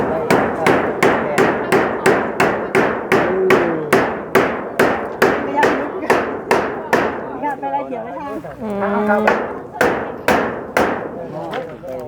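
Steady, rhythmic hammer blows land about twice a second, sharp and close, continuing through the whole stretch with a brief pause near the end where someone speaks.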